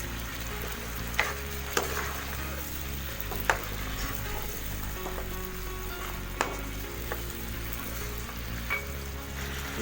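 Chicken makhni sizzles steadily in a pot as ground cumin and white pepper are stirred in, with occasional sharp spoon taps against the pot rim over the continuous frying hiss and no talking.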